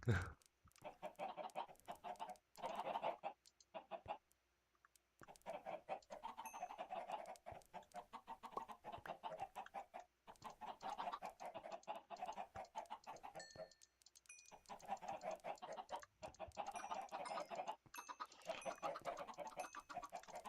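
A crowd of chickens clucks continuously in Minecraft, dense overlapping clucks in bursts with brief pauses, close and fairly loud, with no talking.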